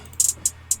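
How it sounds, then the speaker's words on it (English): Three crisp electronic claps: two quick hits close together, then a single one, then another, bright and dry over a faint hum. "Simple clap"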